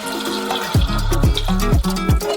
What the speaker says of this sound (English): We pour in 600 milliliters of milk.